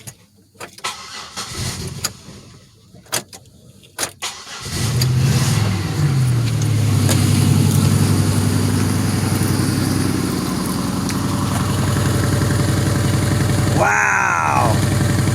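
A 2006 Pontiac Grand Prix with a freshly welded exhaust, no cat, mufflers and a resonator, starts after a few clunks and settles into a steady, raspy idle with slight revving, close and loud, with a brief sweeping squeal near the end.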